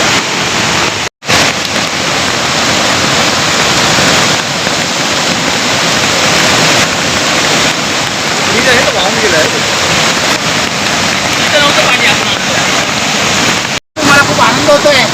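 Water pours loudly at the waterfall of Gagangiri Maharaj Math in Khopoli, a dense roaring rush that fills the whole stretch apart from two brief dropouts, close and steady, with no clear speech.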